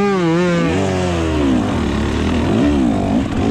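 A 2024 KTM 300 dirt bike engine revs hard during a hare scramble race at Oak Ridge, its pitch sweeping up and down in loud, close bursts with other bikes droning alongside, and no talk over it.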